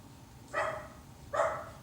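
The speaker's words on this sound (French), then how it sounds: "j'entends le chien qui aboie" A dog gives two short, sharp barks about three-quarters of a second apart during an amateur theatre performance. The barks are moderately loud against a quiet background hum.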